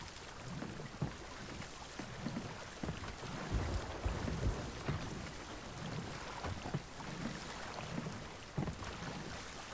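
Storm wind roars around a ship on the open sea in the pirate game Sea of Thieves: a dense, steady rush of wind and spray with occasional low thumps of the hull, and no talking.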